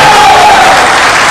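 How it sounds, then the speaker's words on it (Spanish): Studio audience applauding on a television talk show, a dense burst of clapping that fills the short moment loudly and then begins to fade, with a voice briefly audible at the start. "Y un aplauso para Susana."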